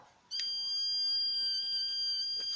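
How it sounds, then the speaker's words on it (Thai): A speaker driven by a dark-activated LDR light sensor circuit suddenly starts a steady, piercing electronic tone that holds continuously, nearby and loud against near silence, with no talk. "LDR ไม่ได้รับแสง ทำให้ลำโพงเปล่งเสียงดังออกมา"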